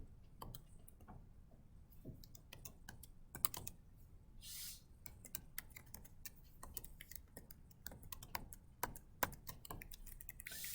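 Computer keyboard typing during a math class lesson, with a steady run of quick, light key clicks and occasional louder taps, fairly close and with no voices.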